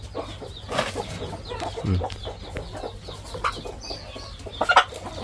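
Farmyard chickens in a backyard coop where hens sit brooding and laying eggs, scattered clucks and squawks at close range with a louder flurry near the end, no talk.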